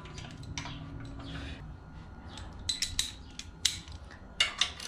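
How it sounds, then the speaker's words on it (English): Removing the side cover of a Predator 212 small engine, light metallic clicks, ticks and rattles of bolts and cover parts, close and intermittent with a few sharper clinks near the end. "let's pull off this side cover"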